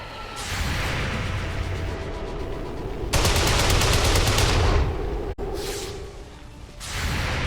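Heavy sustained weapon fire in XCOM 2 with a Star Wars mod, loud continuous bursts with a brief break midway, then another volley that resumes near the end.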